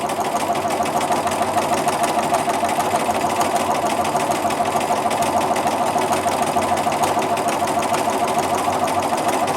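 A sewing machine runs steadily, stitching a checkerboard grid design into a quilt with pale lavender silk, producing a continuous close mechanical whir with fine rapid rhythmic ticking throughout.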